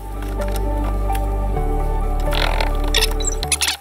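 Gloved hands squish and press wet resin-soaked chopped strand fibreglass mat into a mould, giving soft wet squelches close up over a steady low hum.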